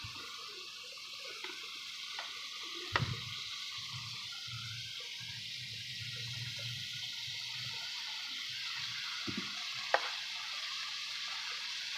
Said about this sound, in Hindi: अब इसके अंदर मैं आलू ऐड कर दूँगी